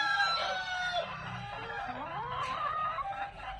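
A Peru breed hen, a single-spurred bird currently in her third laying cycle, clucks and calls amid other chickens, with a rooster crowing nearby; the sound is continuous, moderately loud and close, with no talking.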